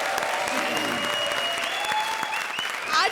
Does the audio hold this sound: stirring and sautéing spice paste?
no